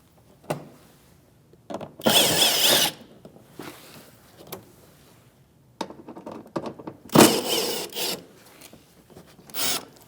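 Power driver with a 7mm socket backing out fender liner screws on a 2016-2025 Chevrolet Malibu, heard as short whirring bursts with rubbing and rasping of plastic between them, close by with no talk.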